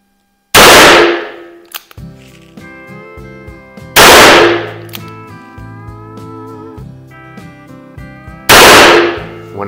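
Three loud, close gunshots from a Dan Wesson 15-2V revolver firing .38 Special wadcutters, spaced about four seconds apart, each with a sharp crack and a ringing metallic tail, and no talk.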